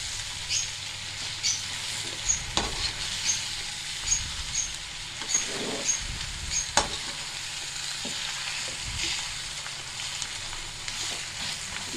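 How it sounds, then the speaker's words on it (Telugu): Masala-coated chicken with black pepper frying in a pan, a continuous low sizzle with scattered pops and a few scraping stirs, moderately quiet and close, without speech. "చూడండి, మనం బ్లాక్ పెప్పర్ వేసి ఫ్రై చేస్తున్నాము."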